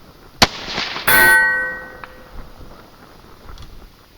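.223 rifle firing 68-grain BTHP match ammunition: one sharp, loud report, then a ringing metallic clang about half a second later, trailing off into quiet outdoor background.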